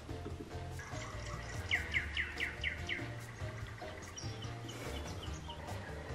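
Recorded birdsong played indoors for cats: bright chirps and tweets in short repeated bursts, clearest in the middle, over a steady low background hum and faint dripping-water noise.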